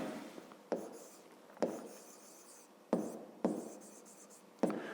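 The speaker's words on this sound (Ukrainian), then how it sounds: "давайте тоді записуємо нехай" A pen scratches across paper in short bursts, each starting with a soft tap as it touches down, heard close and quiet in a still room with no talk during the writing.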